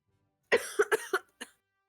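A burst of several harsh coughs in quick succession, close and loud, followed by one last smaller cough after a short pause, with silence around them.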